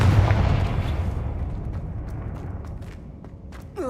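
The Confringo fire spell from the game Hogwarts Legacy lands as a loud booming blast. The burst is sharpest at the start, then a rumbling tail slowly fades and a few faint ticks follow.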